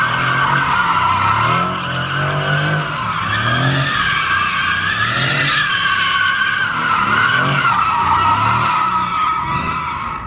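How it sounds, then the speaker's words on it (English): A Mercedes C63 AMG drifts, its tires screeching loudly and continuously while the engine rises and falls underneath the sustained squeal. "during that epic fun drifting"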